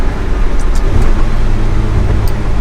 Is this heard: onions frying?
no